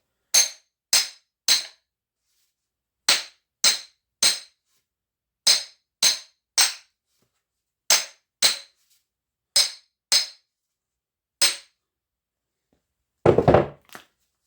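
A steel splitting maul head is driven onto a reshaped wooden handle with a long run of sharp, evenly spaced knocks, often in pairs or threes with short pauses between, loud and close, ending in a heavier dull rattle.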